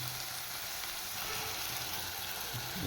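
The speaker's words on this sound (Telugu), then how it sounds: "ఉల్లిపాయలు అయితే వేసుకున్నామంటే కొంచెం బాగా తిప్పాలి, కొంచెం బాగా ఏగేదాకా తిప్పుకోవాలి." Onions frying and being stirred in a pan for a prawn curry with chana dal, a steady close sizzle with faint scraping movements throughout, no talking.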